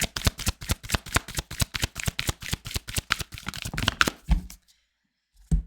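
Tarot cards are shuffled for a reading, producing a quick run of crisp, evenly spaced riffling snaps close up, ending in a soft card slap and then a short silence.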